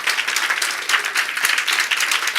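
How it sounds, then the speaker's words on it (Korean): A church congregation at a Korean Wednesday lecture bursts into loud, enthusiastic applause, many hands clapping in a thick, continuous roar close by, with faint cheering mixed in. "박수 보내드리겠습니다."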